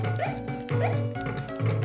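Short, repeated yaps from a cartoon dog in a Jetsons retro video game, three quick barks in under two seconds over steady game audio.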